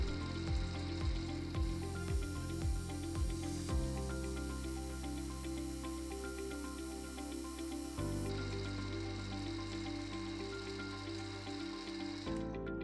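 A milling machine faces a part clamped in its vise, giving a steady, loud metallic cutting whir with shifting tones and a rhythmic pulsing early on, continuous throughout.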